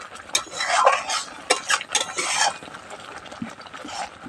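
Butter paneer masala being stirred in a pan, a busy run of scraping and clinking spoon-on-metal strokes, loudest early and near, easing off toward the end, with no talking.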